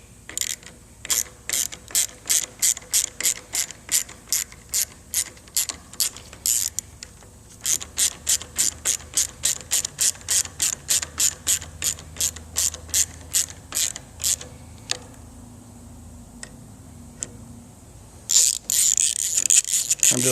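Rapid ratchet clicking in quick bursts as handlebar bolts are tightened on a 2015-or-newer Harley-Davidson Road Glide fitted with 13-inch Road 6 Customs bars, several runs of crisp close clicks separated by short pauses, with no talking.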